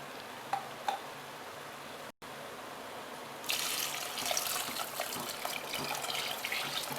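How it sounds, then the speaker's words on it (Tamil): Water pouring into a pot of rice for vegetable biryani, a steady splashing rush that starts abruptly and continues close by after a few quiet ticks and a short silence. "இப்போ அடுத்தது இதில் தண்ணி ஊற்றிக்கணும்"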